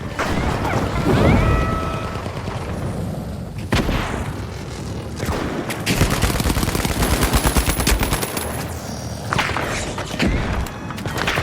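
Gunfire and explosive impacts in a chaotic video game battle after a goo grenade is thrown, with loud repeated shots, thuds and crashes continuing in bursts throughout.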